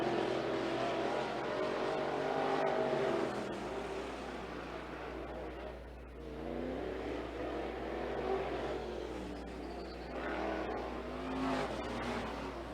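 IMCA Modified race cars run hot laps at Sunset Speedway, their engines roaring and swelling as they pass, rising and fading at moderate distance with a continuous low rumble beneath.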